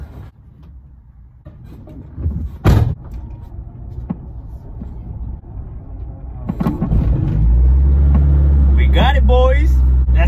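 A Honda Civic engine catches during a roll start: quiet rolling and a door thud give way to a sudden low, steady idle rumble that stays loud to the end, with brief chirps on top.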